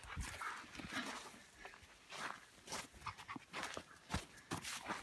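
An over-friendly puppy on a volcano hike in the Quilotoa caldera, Ecuador, scrabbles and pants close up in quick bursts, with rustling and footstep-like scuffs and no clear barking.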